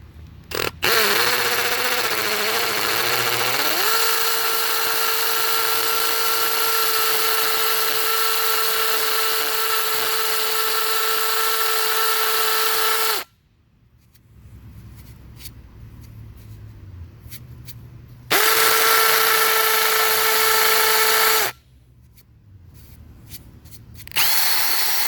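A power drill bores a hole into concrete to set an anchor, a steady loud whine running for about thirteen seconds and then returning in a shorter burst after a pause, with quieter scraping and handling between runs.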